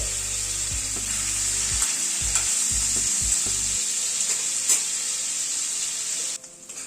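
Paneer pieces sizzle steadily in hot oil in a pan, a loud continuous fry with occasional stirring scrapes, for a winter-vegetable sabji.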